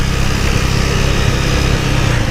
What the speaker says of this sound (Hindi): हो मेरी बाइक की रेस भाग रही है अपने आप, देखा।